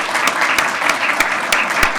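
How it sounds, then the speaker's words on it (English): At a ribbon cutting ceremony for a dementia caregiving center, the audience claps in a steady round of applause, with a few sharper individual claps standing out near the listener. "Please, again, let's give them a round of applause."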